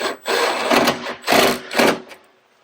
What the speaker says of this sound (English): So now we're going to tighten everything up.